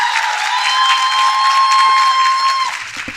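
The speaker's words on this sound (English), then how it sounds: "Can we get more round of applause?" Conference audience applauding, a dense wash of clapping with some crowd noise, fairly loud and sustained, accompanied by a steady high tone, tapering off near the end.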